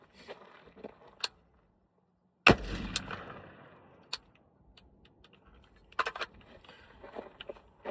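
A KS-3 shotgun fires one sharp, loud blast at an outdoor range, with a brief echo trailing off, followed by quieter handling clicks and a couple of smaller distant reports.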